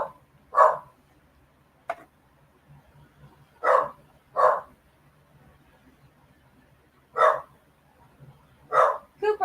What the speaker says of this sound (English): Uh-oh, Cooper's barking.